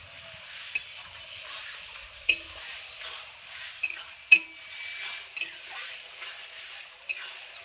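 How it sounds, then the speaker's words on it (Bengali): Spice masala being stirred and fried in a pan after a little water is added: a soft, steady hiss under repeated clinks and scrapes of a spoon against the metal, with no talking. "এইবার আমি বাটিটা দিয়ে একটু পরিমাণ জল দিয়ে দেবো। এই জলটা দিয়ে আবারও আমি একটু কষিয়ে নেব।"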